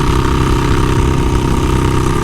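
A Harley-Davidson Sportster 48 cruises in fifth gear on a highway. Its engine gives a loud, steady, close drone with a constant low throb and broadband wind roar, and no voices.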